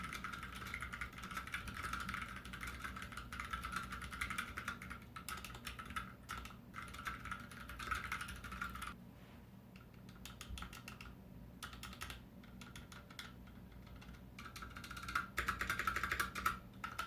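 Typing on a Tex Yoda II mechanical keyboard with a built-in TrackPoint, shown with a GMK keycap set fitted. Dense, steady key clacks run throughout at close range, briefly thinning mid-way before picking up again, with no talking.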